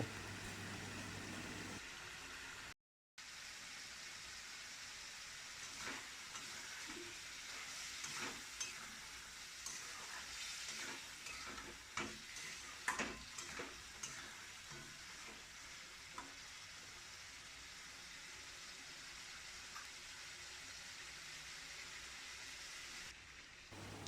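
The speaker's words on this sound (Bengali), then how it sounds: "সামান্য পরিমাণে জল দিয়ে মশলাটাকে ভালো করে কষিয়ে নেব।" Spice paste with a little water sautés in a pan for a chicken and potato curry, making a quiet, continuous sizzle with scattered small crackles and occasional stirring scrapes.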